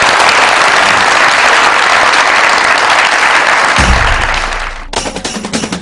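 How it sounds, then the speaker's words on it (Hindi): Loud, dense applause from a comedy show audience fills the room, cutting off sharply near the end as music with a low beat and singing takes over. "सो उनके लिए भी बहुत सारी तालियां।"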